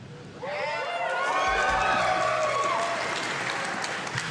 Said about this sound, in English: It needed room for that applause.